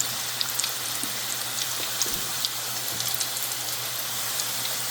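Vegetable samosas in a thick, heavy wrap fry steadily in oil over medium heat, giving a continuous soft sizzle with scattered tiny pops and crackles, close and even throughout with no voices.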